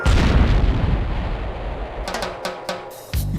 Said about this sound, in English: also know how to shoot guided missiles now